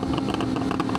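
A Yamaha R1 motorcycle engine revs nearby with a throbbing, uneven growl, broken by quick popping bangs in a rough, choppy rhythm across a brief moment.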